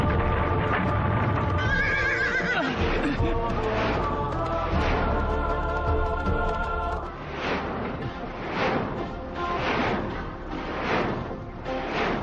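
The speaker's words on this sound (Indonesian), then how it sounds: "Mendapatkan 144 ekor kuda putih. Bersurai emas lagi." A herd of white horses with golden manes whinnies repeatedly and loudly, the harmonic neighs overlapping as steady hoof clip-clops beat in a regular rhythm, growing more prominent in the second half.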